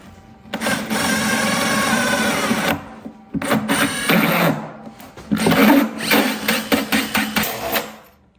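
A drill with a hole saw bores into green oak for a frame brace, giving a sustained loud grinding whir, a short pause, then a second long cut, then a series of bursty revs, close by with no talk.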